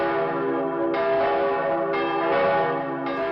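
Church bells peal loudly and continuously in celebration after a cannon shot announces arriving reinforcements during a siege, rich sustained ringing tones with repeated strikes about once a second.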